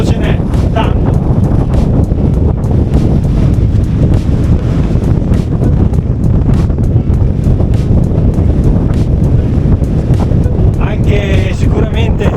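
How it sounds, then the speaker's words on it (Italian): Loud, constant wind buffeting the microphone at the Ridracoli dam during its overflow, a roaring low rumble throughout, with faint speech-like fragments buried underneath. "perché qui di vento ce n'è tanto"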